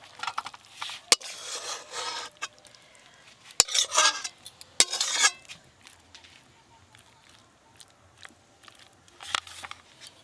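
Pepper chicken is scraped and tipped from a pan into a serving dish, with a few sharp metallic knocks and bursts of scraping and sliding at close range between quieter pauses.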